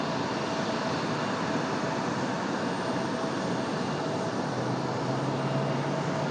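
Breeze Airways airliner on its takeoff roll from runway 23 right at Raleigh-Durham International, a steady loud broadband jet engine roar filling the whole stretch without a break.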